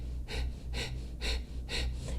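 Forceful rhythmic pranayama exhales during an energizing breathwork practice, four sharp breathy bursts at an even pace, close and fairly loud with no talking.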